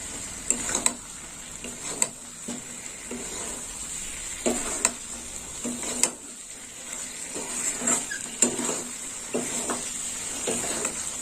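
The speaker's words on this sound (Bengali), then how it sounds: "দিয়ে দিলাম ভেজে রাখা আলু। এগুলো আরেকটু কষে নেবো মশলার সঙ্গে।" Fried potatoes being stirred and sautéed with spice paste in a pan, steady sizzling under repeated scraping and clinking strokes of a spatula at an irregular rhythm, close and moderately loud.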